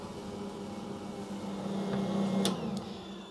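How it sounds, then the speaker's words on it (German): A stand mixer on a low setting kneads soft spelt-flour dough for an Italian Easter colomba, giving off a faint, steady motor hum with a couple of brief clicks near the end. "Dann die Küchenmaschine auf kleiner Stufe starten und nach ein paar Minuten das Tempo erhöhen und zu einem plastischen Teig kneten"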